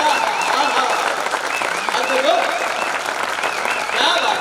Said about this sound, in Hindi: देर तक तालियों की गड़गड़ाहट विदिशा से चाहते हैं